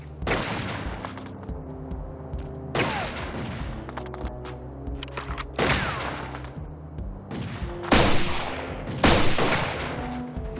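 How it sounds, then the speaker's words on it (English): Shotgun blasts and projectiles in Turok Evolution combat, with several loud, booming reports spaced a few seconds apart. Each is followed by scattering pellet impacts and rattling debris over sustained battle noise, and there is no talk. "I really do like the sound of projectiles beaming around you during combat, like the individual pellets from a shot shell dispersing against your cover"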